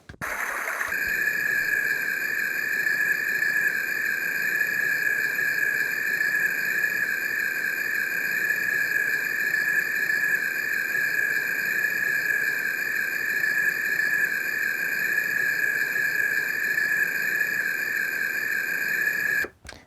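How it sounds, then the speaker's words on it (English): A steady, shrill summer-night chorus of crickets and cicadas buzzes without pause for about twenty seconds, even and continuous, with no voices. "It's kind of got some like crickets and maybe cicadas going on in there."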